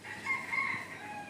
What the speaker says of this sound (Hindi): देख रहे हो आप कैसे मुर्गा का आवाज़